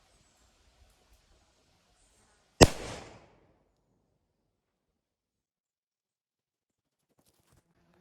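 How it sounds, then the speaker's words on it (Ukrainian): A PYROSOFT Marker training grenade goes off on a tripwire with one sharp, loud bang and a brief hissing decay. The bang breaks an otherwise near-silent outdoor scene. "Як ви бачите, граната маркер працює добре"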